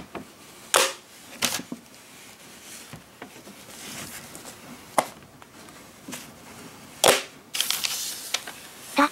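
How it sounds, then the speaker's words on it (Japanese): Sharp plastic clicks and snaps ring out at irregular intervals, a Surface RT tablet's Touch Cover keyboard being attached and pulled away again several times, close and crisp. "タッチカバーを、つけたり外したりする音が好きです。"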